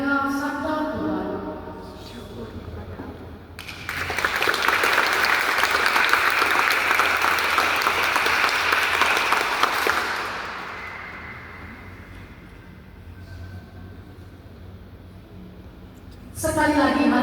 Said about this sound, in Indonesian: Sekali lagi, mari kita tepuk tangan.